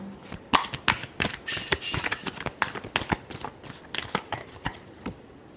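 Tarot cards shuffled by hand in a quick series of crisp riffling snaps and soft flicks, close and fairly loud, with no talking.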